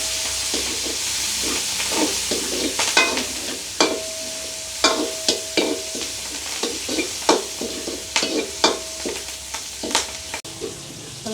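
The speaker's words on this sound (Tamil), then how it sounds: "அதோட நாங்கள் கழுவி வச்சிருக்கிற கருவேப்பந்திலையும் போட்டுக்கொள்வோம் இப்படியே நல்லா திரட்டி விடுவோம்" Curry leaves crackle and sizzle as they are stirred into hot oil in a pan in a village kitchen, with a steady frying hiss broken by repeated scraping strokes of a spoon.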